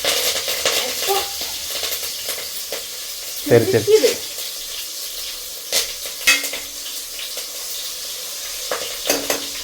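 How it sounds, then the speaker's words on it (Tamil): Curry leaves fry among sautéed tomatoes in a pan for a country chicken curry. A moderate sizzle is broken by a burst of crackling and a few utensil clinks and scrapes. Faint voices murmur in the background. "கொஞ்சம் தக்காளி எல்லாம் வதங்கிடுச்சு இப்போ கறிவேப்பில ஒரு கூட்டு போடலாம்"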